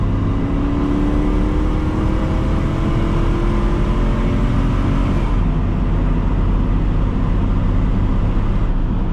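A 2008 Chrysler Aspen with a 5.7L HEMI V8 pulls hard under acceleration, engine drone rising steadily in pitch through the gears, heard loud from inside the cabin.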